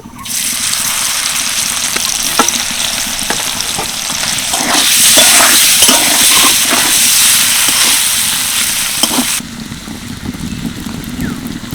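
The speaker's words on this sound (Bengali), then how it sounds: "আলু ভাজার পর যে তেলটা রয়েছে ওই তেলে আমি পনিরগুলো ভেজে নেব।" Paneer fries in oil left over from frying potatoes, making a loud, steady sizzle and hiss with scattered crackles that eases slightly toward the end.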